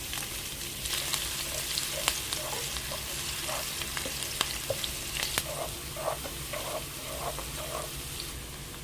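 Garlic and onion sautéing in a pan for carrot and malunggay soup, with a steady frying sizzle, scattered crackles and popping, and a few sharp utensil clicks against the pan.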